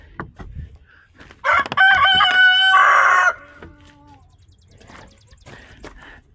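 Chickens in a coop give a loud nearby rooster crow and bursts of clucking, followed by softer scattered clucks.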